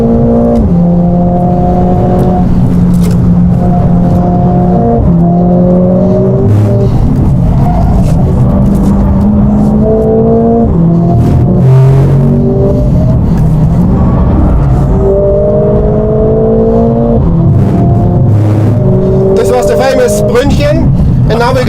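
Mercedes-AMG test car driven hard around the Nürburgring Nordschleife, its engine loud and close throughout, revving up and down through repeated gear changes and surges under bumpy track conditions.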